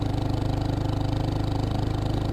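A Geon X-Road 250 motorcycle ridden through city traffic in second gear, its single-cylinder engine giving a steady, fast, even thrum up close with no talk over it.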